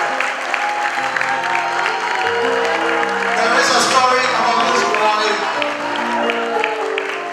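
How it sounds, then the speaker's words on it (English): Applause rises from a crowd at a school graduation ceremony with the Asantehene and Lady Julia Osei Tutu in attendance, mixed with cheers and whoops. It swells in the middle while a voice speaks over it and music plays beneath. "I guess the applause says it all."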